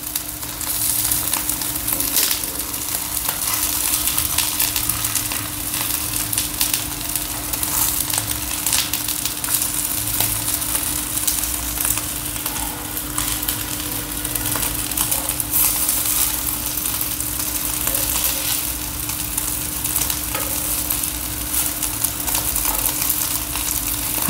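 Potato patties for ragda pattice shallow-fry in a pan with a loud, continuous sizzle and crackle, occasional scraping and turning sounds breaking through the steady hiss of the oil.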